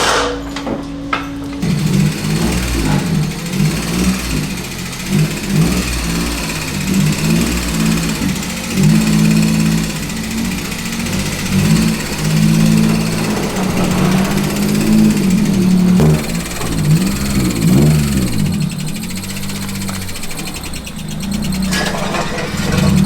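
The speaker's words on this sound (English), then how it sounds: "that putrid noise coming from the engine bay is his alternator bearings" A running Honda Del Sol engine with worn, failing alternator bearings drones loudly and close, with a rough pulsing rattle and grinding whine wavering through the whole stretch, and no talking.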